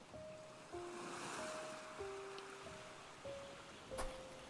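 Ocean surf washes steadily beside the shore, a continuous broad roar with gentle swells, thin tonal lines of faint music threading over it and no talk.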